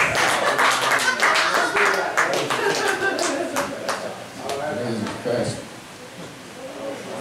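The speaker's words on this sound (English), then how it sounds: "Give them a round of applause" Applause from an audience at a live comedy and music show, scattered hand claps that are loud at first and thin out, with voices talking and calling out through it.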